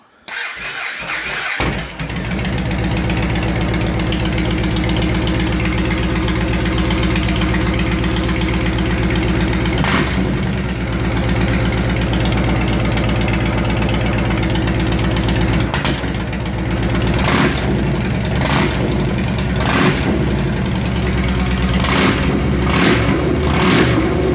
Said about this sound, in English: I'm going to show you how the bike starts now.